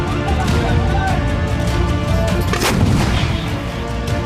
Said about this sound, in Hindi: लेबनान बॉर्डर पर मरकवा टैंक की गर्जना बता रही है कि युद्ध भयंकर होगा।